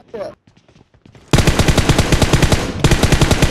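Sustained rapid machine gun fire from the video game PUBG Mobile bursts in loud and close after a brief quieter lead-in with a few scattered shots, then continues in a fast, steady rattle.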